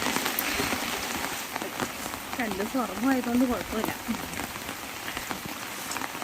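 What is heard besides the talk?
heavy rain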